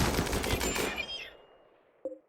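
Ranged weapons fire at a Scyther mech in RimWorld, a dense burst of loud overlapping shots that fades over about a second, followed by a brief sharp tonal hit near the end.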